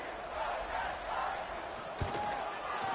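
A stadium crowd roars in a college football video game, Arkansas State Red Wolves at FIU Panthers, a steady loud wash of cheering with a brief thump near the end.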